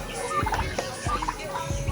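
Turkeys gobbling in a backyard coop that also houses chickens and ducks, several bursty calls overlapping at close range over steady farmyard background noise.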